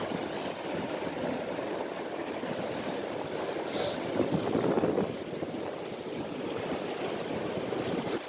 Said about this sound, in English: Go get some waves.